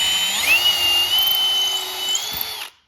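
A power drill bores a pilot hole in wood for a bird feeder, giving one loud, steady whine that rises in pitch as it spins up, holds for about two seconds and then stops abruptly.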